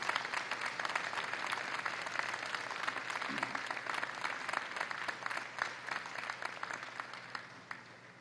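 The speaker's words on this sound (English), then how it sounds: "give them a round of applause for the love and support that made this day possible" Graduation crowd at a spring convocation claps warmly for families and friends, sustained dense applause from many people that continues evenly at moderate loudness.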